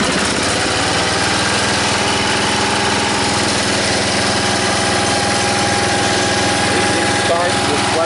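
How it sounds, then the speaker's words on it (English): A 1965 Sears Suburban garden tractor's Briggs & Stratton 16 hp engine runs steadily up close, a loud, unbroken mechanical drone with a low throbbing pulse and a constant level throughout. "This is a Bridge & Stratton 16 horsepower, guys."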